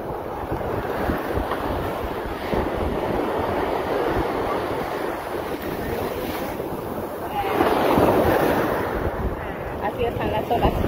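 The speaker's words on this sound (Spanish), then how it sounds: "Así están las olas aquí en el mar." Strong ocean surf crashes continuously at the shore, a loud, steady roar of breaking waves with heavy wind buffeting the microphone and a surge of louder wave noise near the end.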